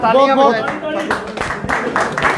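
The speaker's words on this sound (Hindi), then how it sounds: "तालियां बजाओ जी" A gathering breaks into scattered clapping in short bursts of hands while someone speaks loudly over it, his voice prominent at first and the claps growing more distinct toward the end.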